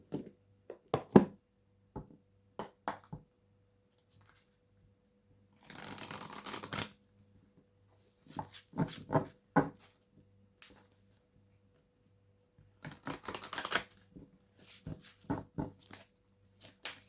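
Oracle cards being shuffled by hand, close-up and quiet, in irregular bursts of riffling and soft slaps separated by pauses, with two longer stretches of rapid shuffling.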